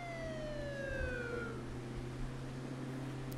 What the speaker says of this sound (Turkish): Demek ki iki polis arabası çıktı, anladın mı abi?